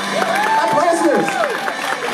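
An audience claps and cheers at a cosplay parade on stage, a short burst of applause with crowd noise and background music underneath.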